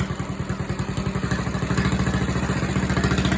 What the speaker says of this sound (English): See what happens when I rev it up a little bit?